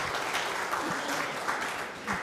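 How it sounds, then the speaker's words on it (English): An audience at a Safe Streets public meeting claps steadily throughout, dense and fairly loud applause filling the room, easing slightly near the end and then swelling again. "If I knew the applause was coming, I would have sat in the back of the room."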